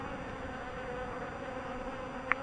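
Honeybees buzz steadily at an apiary, a dense, continuous droning hum with no pauses, plus one brief louder flicker as a bee passes close.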